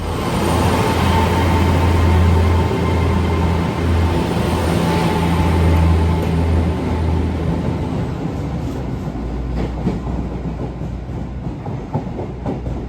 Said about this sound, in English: My train from Worcester Shrub Hill to Kidderminster.